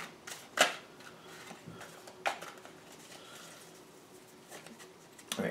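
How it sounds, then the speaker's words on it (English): Tarot cards being shuffled by hand during a love reading, giving soft papery riffles and a few sharper slaps in short bursts, close and fairly quiet with no talking. "The Lover's card popped up at the bottom, and I want to keep shuffling"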